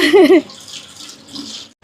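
Water splashes and sloshes as it is scooped into a cooking pot, with a short bright slosh at first and softer pouring trickles after, fairly close.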